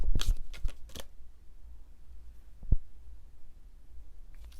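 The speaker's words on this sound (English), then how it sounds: "So let's shuffle again." Tarot cards are shuffled by hand in a few quick riffling bursts at the start, followed by quiet with a single soft tap later, close and intimate.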